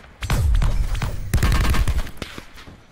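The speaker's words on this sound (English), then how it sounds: "I'm getting shot at from somewhere else." Bursts of rapid gunfire in Call of Duty: Blackout, loud and close, with a heavy boom at the start and a second volley a moment later, decaying into scattered shots with no talking.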